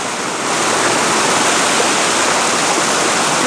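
Steady broadband rush of a waterfall and mountain stream near its spring source on a hiking trail, loud and continuous with no talking.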